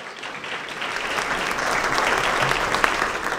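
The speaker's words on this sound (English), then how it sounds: "Let's give him a round of applause." An audience at a 2019 school board staff recognition event applauds steadily, a dense wash of clapping that swells slightly and holds at moderate loudness throughout.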